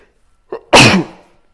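A single loud, close sneeze, preceded by a brief sharp intake of breath, then a short fading tail into silence.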